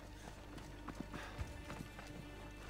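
Horse hooves galloping in the video game Assassin's Creed Odyssey, a quiet, irregular run of soft thuds and clops over a low steady background.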